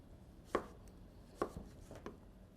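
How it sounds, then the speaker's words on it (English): A kitchen knife slicing squash or zucchini into half moons on a cutting board: three crisp, close chopping taps spaced unevenly, the last one softer, with no talking. "all you have to do is cut it in a half moon and then make slices from there"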